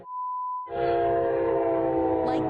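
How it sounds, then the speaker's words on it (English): An Amtrak train roars loudly through a railroad crossing, sounding a sustained horn blast over heavy rumbling wheel and engine noise, preceded by a steady crossing bell tone. "Like this Amtrak train."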